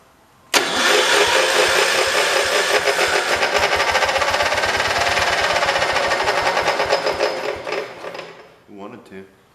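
A Kohler engine on a 1968 Cub Cadet 112 garden tractor, choked, catches abruptly and runs loud and close with a steady rapid chugging for about eight seconds before sputtering out.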